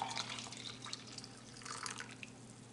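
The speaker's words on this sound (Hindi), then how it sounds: "ये बॉईल वाटर इसमें डाल लेते हैं।" Freshly boiled water pours onto boiled turnips for a water-based turnip pickle, a steady close liquid splash and trickle with scattered drips, fairly quiet and alone.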